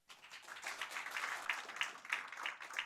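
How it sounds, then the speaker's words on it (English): Audience applause at an opening ceremony for a Philippine investment and market research mission, greeting a speaker; a moderate, fairly distant spread of clapping that holds steady throughout. "Please welcome him with another big round of applause"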